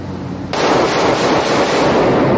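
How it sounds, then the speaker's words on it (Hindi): Rapid fire from a Nanda PX3 .30 bore pistol, an abrupt onset of loud, dense, continuous blasting that stays harsh and close for about two seconds. "तो ये काफ़ी अच्छा रैपिड फायर हुआ।"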